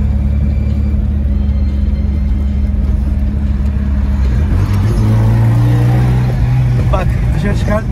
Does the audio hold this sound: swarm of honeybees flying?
no